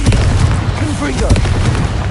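A Confringo explosive spell blasts during busy Hogwarts Legacy combat, with booming hits in a dense, continuous wash of loud battle noise. A voice is heard throughout.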